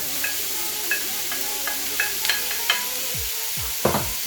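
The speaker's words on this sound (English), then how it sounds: "Now we're going to put in our onions" Onions going into a hot pan alongside brown sugar while cooking lamb chops with spicy peppers: an up-close sizzle punctuated by repeated clanks and scrapes of a utensil, with no talking.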